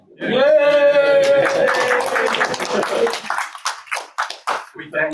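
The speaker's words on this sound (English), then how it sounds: "We're applauding you or the fact you're leaving?" A meeting audience claps for a departing skipper at his last meeting, a loud burst of applause close by mixed with a sustained voice, tapering into scattered individual claps under speech.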